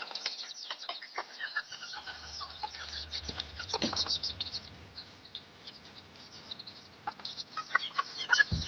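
Chickens cluck and rustle while being put into their coop, close by, with scattered soft clucks, scuffling and a low rumble, and no clear talk.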